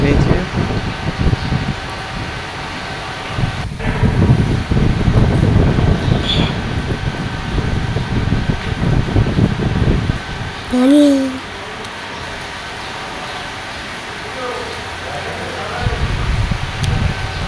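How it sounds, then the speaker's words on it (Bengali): Strong wind from Cyclone Remal in Noakhali, a loud continuous rushing roar that surges and eases, with a voice talking over it. "প্রচুর ঝড়ো বাতাস হচ্ছে, দেখেন প্রচুর।"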